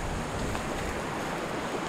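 Turbulent river water just below rapids on a tenkara fly-fishing outing: a steady, dense rushing hiss that stays constant throughout, close by and fairly loud, with no talking.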